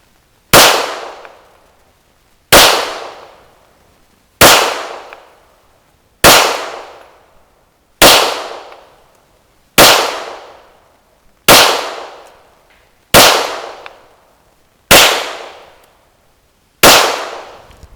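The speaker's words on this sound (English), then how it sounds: "Today we're gonna actually be shooting some remanufactured brass." Ten evenly spaced sharp gunshots from a Smith & Wesson M&P 9 Pro pistol firing remanufactured 9mm brass at a range, each crack loud and close with a short decaying tail, roughly two seconds apart.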